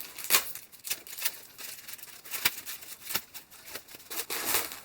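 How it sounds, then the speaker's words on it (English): Supreme knife slicing open the top of a package envelope, a run of close, dry, scratchy tearing and crinkling bursts at an irregular pace, moderately loud, with no talking. "Use a Supreme knife here. And we'll just cut it up top."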